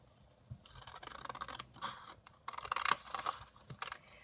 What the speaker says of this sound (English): I should just cut it kind of roughly to size.